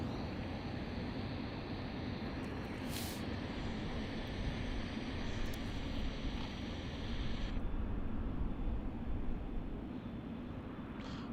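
An airliner departs runway 27 at Melbourne Airport, heard as a steady, distant jet roar that builds slightly and stays constant throughout, with no voices.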